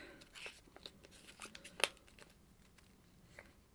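Crinkly tearing and crunching as tape is torn off packaging, with a sharp rip in the middle, fairly quiet and close, no talking.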